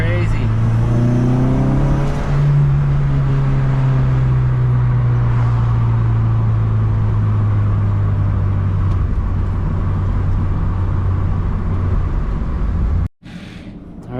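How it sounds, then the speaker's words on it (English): A K24-swapped Honda Civic EM2 fitted with a Hybrid Racing cold air intake cruises at highway speed, its loud, continuous engine and intake drone sliding slightly in pitch before the sound cuts out abruptly near the end. "The intake sounds crazy."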